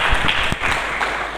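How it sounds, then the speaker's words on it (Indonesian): Church congregation clapping at a New Year worship service, a dense, steady wash of hands across the whole stretch, fairly loud and continuous with no voice over it. "Sekali lagi berikan tepuk tangan yang meriah bagi Yesus Kristus."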